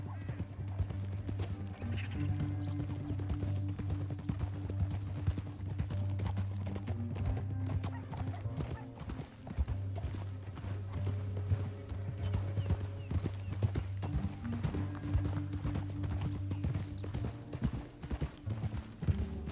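Steady clip-clop of horse hooves at a run in Red Dead Redemption 2, continuous and fairly close, with a low droning background throughout.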